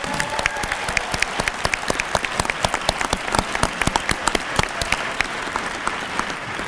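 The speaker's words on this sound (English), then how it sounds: "Let's give these graduates a round of applause." An audience applauds recruit class graduates at a graduation ceremony, steady dense clapping from a crowd lasting the whole stretch.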